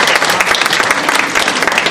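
Audience at a community gathering applauds to welcome an invited guest, a loud, dense, continuous wash of clapping close by.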